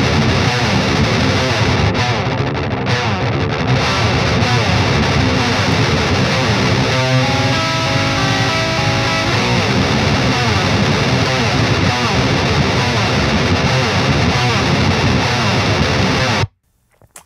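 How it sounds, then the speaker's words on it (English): Heavily distorted electric guitar through an amp plugin plays a steady, loud riff with thick crunchy tone throughout, ending abruptly in silence near the end. "Let's listen to just the guitar."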